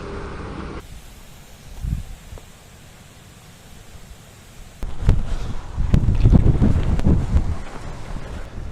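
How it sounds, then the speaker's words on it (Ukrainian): Strong gusting wind buffets the microphone outdoors during cold-water fishing on a stormy day, a steady roar that rises to heavy rumbling gusts in the second half, with no speech. "бачите, як негода розгулялась, такий задув вітер різке похолодання"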